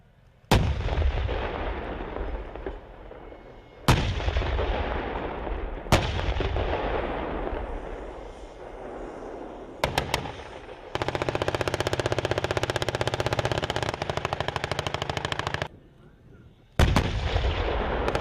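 M1A2 Abrams tank firing, with single loud cannon booms that trail off into long rumbling echoes, then a sustained rapid machine-gun burst lasting several seconds, followed by another cannon shot.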